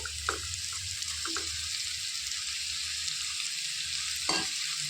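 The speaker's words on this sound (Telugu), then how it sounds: "మొత్తం కలిపేసుకోవాలి మంచిగా ఈ నూనెలో" Boiled bitter gourd pieces stirred in hot oil with coriander powder in a pan, a soft continuous sizzle with a few scraping stirs of the spoon, close and alone.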